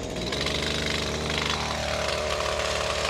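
A TrimmerPlus AH721 hedge trimmer attachment on a Husqvarna 128LD string trimmer runs steadily while cutting, a loud, continuous buzzing engine drone with rattling blade chatter and no pauses.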